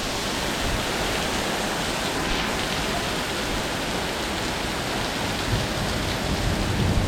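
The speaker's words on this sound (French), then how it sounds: "Avec une très forte précipitation." Torrential rain in a severe summer thunderstorm roars without letup, a thick, loud, steady wash of falling water striking nearby surfaces, with no speech.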